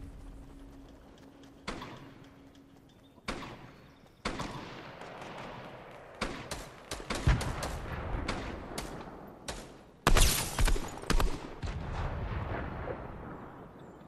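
Gunfire in Fortnite crackles through a squad match, with sharp shots and bursts of rapid fire scattered irregularly across the scene, some near and loud, others more distant, plus a dense volley midway.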